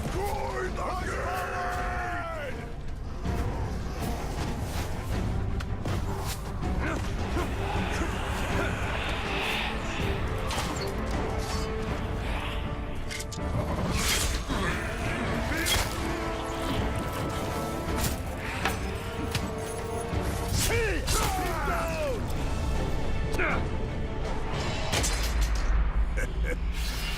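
Heavy battering impacts hit a fortress gate during a Middle-earth: Shadow of War siege, booming repeatedly amid a dense, loud battle din of groans, yells and roars, with voices shouting throughout.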